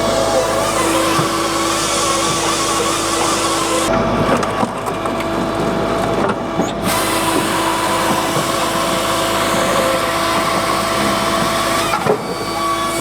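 A Japa 315 firewood processor works through a log section, its loud steady hydraulic drone and motor hum underlying crunching, splintering wood sounds as it cuts and splits, with brief pauses and no talking.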